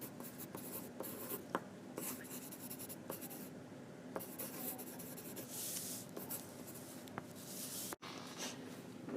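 Chalk or marker being wiped off a classroom board during a lesson on measuring area, a steady scrubbing rub with short strokes and a few light taps, fairly quiet and without speech.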